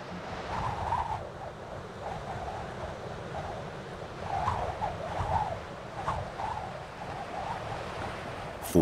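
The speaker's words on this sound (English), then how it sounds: "Falling winds lash the surface of the water. Waves can reach meters in size." Storm wind over the Mediterranean Sea with waves lashing the surface, a steady blustery roar with surging swells of surf rising and falling, moderately loud and with no voices.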